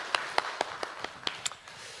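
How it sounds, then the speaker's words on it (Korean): A church congregation gives a few sparse, scattered claps, quite faint and well spaced, with no one speaking. "하나님께 우리 감사의 영광의 박수 한번 올려드리겠습니다"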